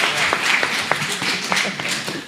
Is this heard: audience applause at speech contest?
yes